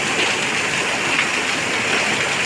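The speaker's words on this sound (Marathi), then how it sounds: "यावर्षी भन्नाट पाऊस पडतो" Heavy monsoon rain in the Konkan countryside pours as a dense, unbroken hiss, loud and even across the whole short stretch with no other sounds.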